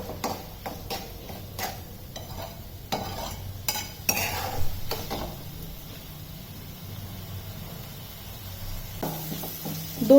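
Chicken kheema stir-fried in a pan over a high flame gives a steady low sizzle, broken by repeated metallic scrapes and taps of the spatula against the pan, close and fairly loud.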